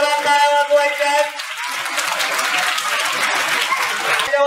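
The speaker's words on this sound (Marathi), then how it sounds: "विद्यार्थ्यांनी वैभव सरांसाठी जोरात टाळ्या वाजवायच्या आहेत." Students clap together at a school prize-giving ceremony in honour of a teacher, a sustained even burst of applause that follows a short stretch of music.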